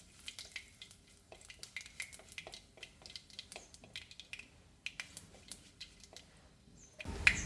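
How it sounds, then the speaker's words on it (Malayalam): Mustard seeds crackle in hot oil in a pan while an okra tamarind curry is being made, with irregular sharp little pops scattered throughout, fairly quiet and close, ending in a louder bump. "ഇതിലേക്ക് കടുക് പൊട്ടിക്കാം ഒരു സ്പൂൺ കടുക് ഇടണം"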